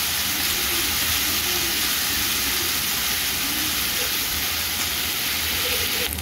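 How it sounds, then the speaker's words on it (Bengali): Coriander powder and ginger paste fry in a pan for a Bengali dal with vegetables, giving a steady, dense hiss that runs unbroken and fairly loud throughout, with no voices. "ধনিয়া গুঁড়ো আর আদা বাটাটা একটু কিছুক্ষণ নাড়াচাড়া করব, হালকা ভাজা ভাজা করব"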